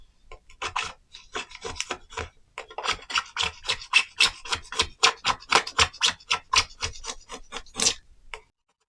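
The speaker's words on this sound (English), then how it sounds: "Cheap Stanley blade scraper, because I just want to get rid of all this paint" A cheap Stanley blade scraper rasps paint off a wooden box in a long run of close, rhythmic strokes, starting uneven and then settling into quick regular scrapes before stopping.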